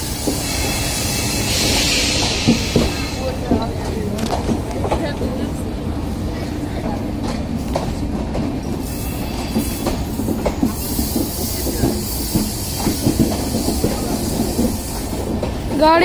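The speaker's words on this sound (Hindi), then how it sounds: "कामाख्या गांधी धाम एक्सप्रेस" The Kamakhya–Gandhidham Express, train number 15667, rolls through Ayodhya Dham Junction in India with a steady loud rumble, rhythmic clickety-clack of wagons and brief wheel squeal, while voices talk faintly nearby.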